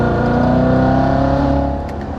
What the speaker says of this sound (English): Downshift fourth and go.